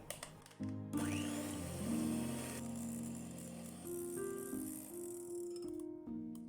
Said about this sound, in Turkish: Mikseri yüksek ayarda çalıştırarak çırpıyorum.